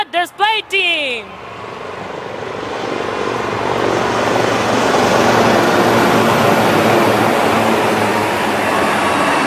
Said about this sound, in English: please welcome the brand ambassadors of the Indian Air Force, the Sarang Helicopter Display Team